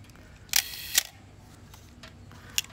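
Shutter of a Miranda Automex III film camera firing, two sharp mechanical clicks close together near the start, then a third crisp click later, each close and distinct over a quiet background.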